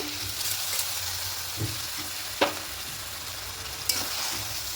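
Rice and lentils being stirred into a hot pan for a vegetarian khichuri made with sun-dried rice, a steady low sizzle with a few sharp scraping clicks from the spoon, close and alone without talk.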